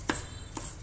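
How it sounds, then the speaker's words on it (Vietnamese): A knife chops chili pepper on a cutting board in a home kitchen, two sharp separate cuts about half a second apart, close and moderately loud. "Đây các bạn, cái phần ớt này các bạn sẽ thái ra cho mình nhé,"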